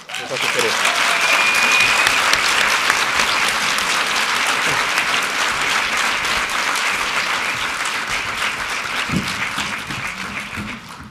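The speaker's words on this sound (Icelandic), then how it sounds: "Ég ætla að biðja salinn að gefa ykkur gott klapp." Sustained applause from a large audience in a hall at the Landspítali hospital annual meeting, dense and steady throughout, slowly tapering toward the end.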